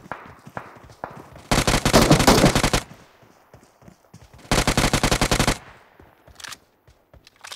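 Automatic weapon fire in PUBG Mobile: two sustained bursts of rapid, loud shots, each lasting about a second and a half, separated by quieter scattered single shots and ambient game noise.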